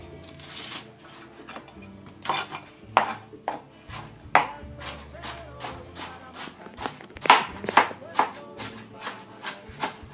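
Fresh onion being chopped for spicy guacamole, a run of sharp, close knife knocks on a board, irregular at first and then settling into a quick, steady rhythm.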